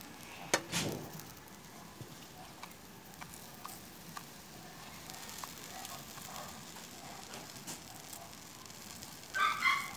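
Hot dogs frying over low heat in a pan on a compact stove burner, a faint, steady sizzle with a few soft pops and light clinks of a pan, heard alone.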